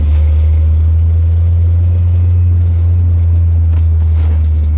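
A manual-transmission car pulls away in an empty school parking lot as the clutch is released, its engine giving a steady, loud low drone that holds throughout without clear revving peaks.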